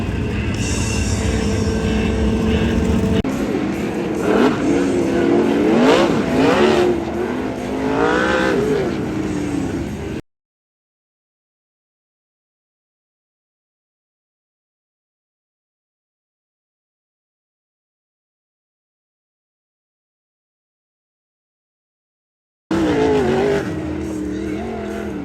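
World of Outlaws sprint cars race around a dirt speedway, a roaring pack of engines heard at a distance, then a long stretch of complete silence before the racing noise returns.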